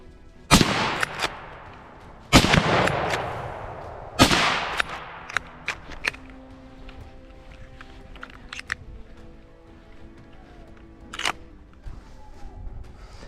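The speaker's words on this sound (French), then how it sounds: "J'attends mon angle de sécurité, j'ai réussi à lui mettre une bonne balle en première." Rifle shots during a driven wild boar and deer hunt: three loud, sharp cracks a couple of seconds apart, each with a ringing outdoor tail, then fainter clicks and a later distant report.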